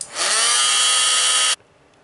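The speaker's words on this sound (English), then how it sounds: "I'm going to go ahead and just use my little heat tool here to go ahead and just heat it up right now" A small handheld heat tool blows hot air over white embossing powder on a stamped card, giving a loud, steady whooshing whir that holds for about a second and a half, then cuts off abruptly.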